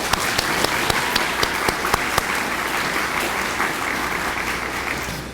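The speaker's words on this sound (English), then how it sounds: "So let's give them one more round of applause." At a scholarship brunch, a crowd applauds with a few sharp, distinct claps standing out early before merging into sustained, even clapping from many hands.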